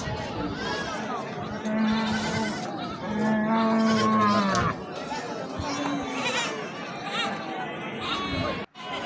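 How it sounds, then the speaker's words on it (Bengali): Goats, sheep and a fat-tailed dumba bleat repeatedly at a livestock market in Hazratpur, Dhaka, their wavering calls overlapping with steady crowd chatter and nearby talking voices. "এই যে ভেড়া আছে, ছাগল আছে, একটা দুম্বাও দেখলাম।"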